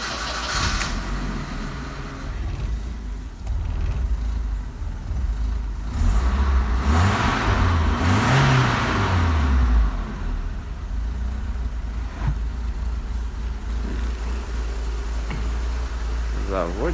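A BMW E36 1.6i with the M40B16 four-cylinder engine cranks and catches, then settles into a steady, fairly loud idle with a few rises in engine note, and voices are faintly heard over it.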